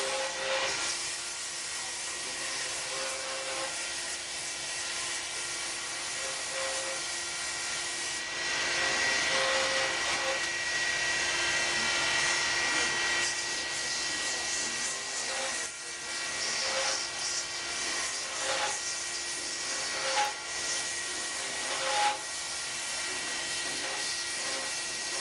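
A handcrafted pen spinning on a lathe while being sanded with very high grit paper, a continuous close whir and hiss with slight shifts in level, no speech.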